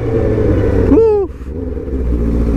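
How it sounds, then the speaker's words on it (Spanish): A 2008 Suzuki GSX600R K8 motorcycle engine gives one sharp throttle blip. The pitch rises quickly, then falls back to a steady low idle rumble, heard close. "En esta moto no me sale tan fácil el golpe de gas"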